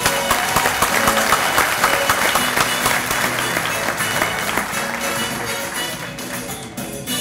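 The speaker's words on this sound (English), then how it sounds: "A big round of applause for all of our couples" Audience applause at a dance competition event in a convention center, a dense, steady wash of clapping that continues throughout, with faint voices and music mixed underneath.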